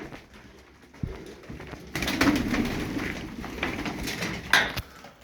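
Pigeons coo in a loft, heard as a low, steady murmur under rattling and clattering from a door being fixed.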